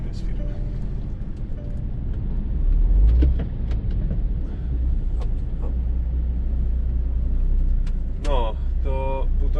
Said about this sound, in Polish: O, jeszcze jedno auto.